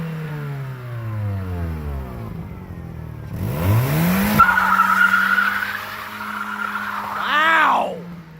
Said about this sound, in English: we're gonna rip hole shots till the clutch blows or something happens